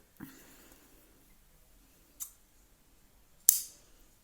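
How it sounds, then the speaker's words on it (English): Scissors snip off a yarn end from a chunky knitted sweater of up-cycled yarn, three separate quiet crisp cuts spaced out against near silence, the last one sharpest. "then I cut this end off"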